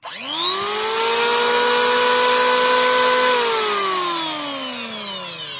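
A MASAKI 1900B two-blade electric wood planer motor spins up to a loud, steady whine close by, holds for a few seconds, then starts to wind down, with no voices.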